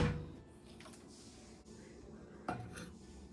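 A bowl of peanuts is set into a 900-watt microwave oven: a faint, close clink at the start and another sharper knock a couple of seconds later, with quiet room tone between.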